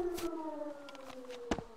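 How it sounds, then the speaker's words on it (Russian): A wailing siren in the military video game ArmA 2 drones steadily at moderate distance, with a few brief clicks and knocks over it and no talk. "Что за сирена?"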